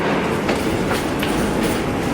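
A New York subway train runs loud and close, with a dense continuous roar and rumble and faint rhythmic clatter of the wheels throughout.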